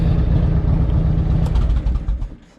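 A Harley-Davidson Evolution motorcycle engine idles steadily after twenty minutes of running, a close, loud low-pitched throb with a loping even beat that fades slightly near the end.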